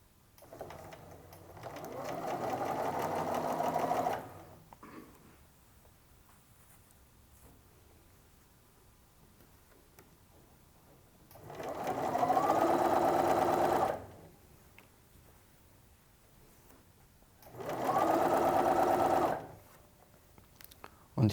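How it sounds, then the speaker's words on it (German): A sewing machine stitches a skirt lining at the slit in three separate runs, the first longer and the last two shorter, with quiet pauses between them. "Und nähen nun bis zur Briefecke."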